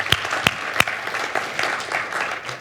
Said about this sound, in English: So let's give a round of applause for those two generations.